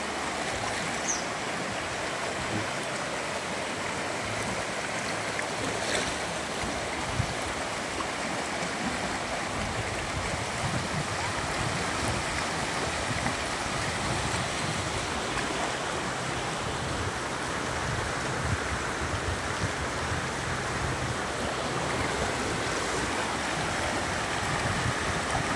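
Sea water washing on a provincial beach, a soft continuous wash and rush of water that stays even and fairly quiet throughout, with no talk.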